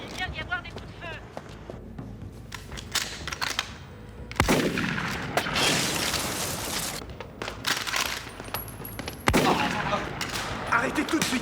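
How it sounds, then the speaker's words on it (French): Gunfire rings out in a police thriller film, with bursts of shots and sharp cracks over a busy, noisy scene. Loud impacts land around the middle and near the end. "Il vient d'y avoir des coups de feu."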